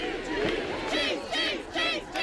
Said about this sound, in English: The chants of cheese echoed across Cooper's Hill.